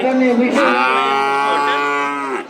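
A stout, healthy Holstein Friesian bull calf at a crowded cattle market gives one long, loud, close moo that holds steady for over two seconds before tailing off, with no talk over it.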